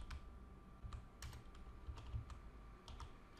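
Rapid clicking of keys on a computer keyboard, quiet and close, with an uneven rhythm of individual keystrokes over a faint low hum.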